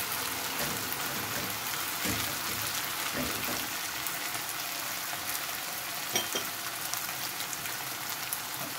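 Bitter chanterelle mushrooms frying in a pan, a steady dense sizzle and crackle with occasional sharper pops, close and even throughout with no talking.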